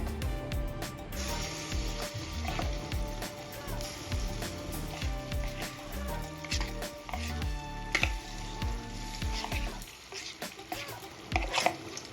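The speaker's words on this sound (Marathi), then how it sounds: "इथे आपल्याला दुधामध्ये भिजवून घेतलेला रवा तुपामध्ये भाजून घ्यायचा आहे" Semolina soaked in milk roasting in ghee in a pan over a low-to-medium flame, with steady stirring and scraping and a soft sizzle that runs throughout.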